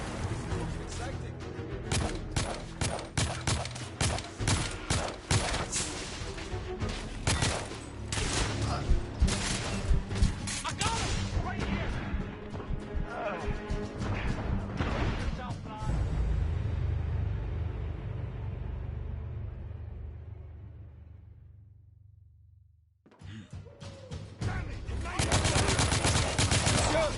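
Sustained gunfire from The Order: 1886, a dense run of rapid shots and bursts laid over a loud battle mix, dropping away near the end before another loud burst kicks in.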